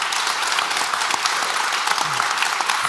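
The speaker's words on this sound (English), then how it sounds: "I want you to give a big applause to the panelists." Dense, steady applause from a conference audience for panelists at a Magento open source event, a loud continuous wash of many hands clapping together with no talking over it.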